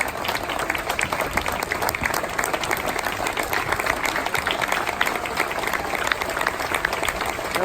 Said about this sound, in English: Everybody's standing up to applaud.